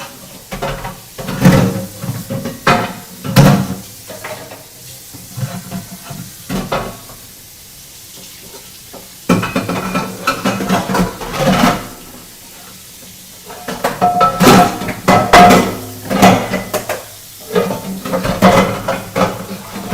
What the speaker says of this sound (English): just putting some dishes away